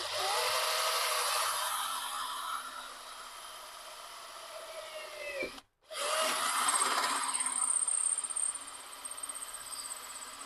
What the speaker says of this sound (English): So I'm just going to drill some holes.